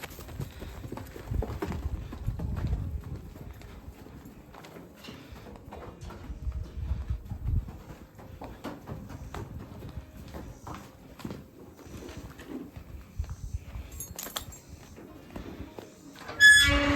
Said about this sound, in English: You're the only horse left out there.